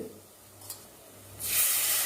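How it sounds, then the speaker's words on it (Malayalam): Tamarind water poured into a hot pan while cooking a backwater fish curry sets off a sudden loud, broad sizzle in the last half-second, after a quiet stretch with one faint clink. "ഈ പുളിവെള്ളം ഞാൻ ഇപ്പോൾ തിളപ്പിച്ചില്ലേ, ആ പുളിവെള്ളം മാത്രമാണ് ഇതിലേക്ക് ഒഴിക്കുന്നത്"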